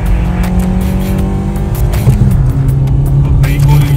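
A Maruti Baleno and a Jeep Compass accelerate hard in a drag race, engines revving loudly and climbing through a gear change, with excited voices talking over the roar.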